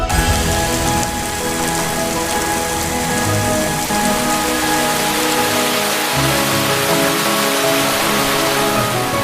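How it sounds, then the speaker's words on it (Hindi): Heavy rain pours down in Cherrapunji, Meghalaya, India in a loud, continuous hiss, drumming steadily on surfaces with no breaks. "पानी अब भी यहां बहुत बरसता है।"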